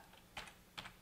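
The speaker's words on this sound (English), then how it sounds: "So the way you do that is you type in sudo space" Two short bursts of clicking keystrokes on a computer keyboard, typing a Linux install command for a Raspberry Pi 3 B+, quiet and close with a pause between them and no talk.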